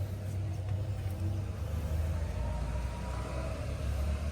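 A Sonalika Supreme DI 50 RX tractor from 2020 runs nearby with a steady, loud, low engine rumble that holds evenly throughout, with no talk over it.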